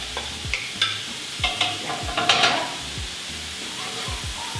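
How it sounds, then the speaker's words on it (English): Mushrooms for beef Wellington sizzle and crackle in a hot pan, close and fairly loud, with repeated scraping stirs and soft clinks against the pan and no talking. "You hear the nice sizzle."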